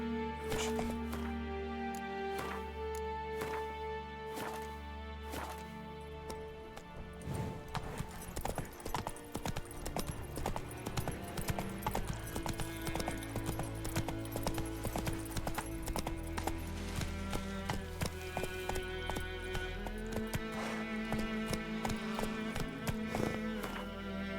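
Horse hooves clip-clop steadily in Witcher 3, a quick rhythmic trot of close, clear hoofbeats running under a layer of game music, with a brief whinny.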